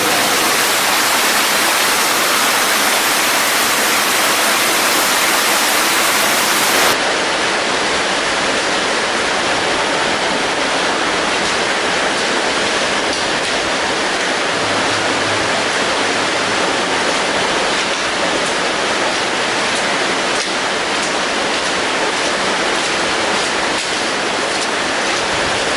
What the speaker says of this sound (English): Very noisy waterfall here.